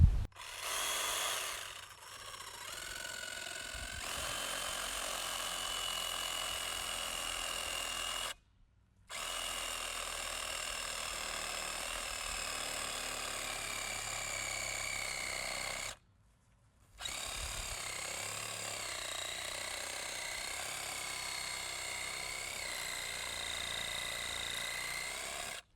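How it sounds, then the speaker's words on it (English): Sawzall reciprocating saw cutting a recycled plastic landscape border, loud continuous buzzing and rasping close by, broken by two short pauses where the saw stops before it starts again. "I'm going to use the Sawzall to do that."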